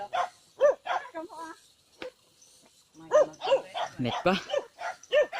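Several dogs at a friend's house bark and yip in short sharp bursts, close by and loud, with whimpers between, while people talk over them.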